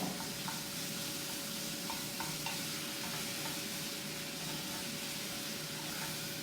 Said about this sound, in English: So you need to cook the meat until it's brown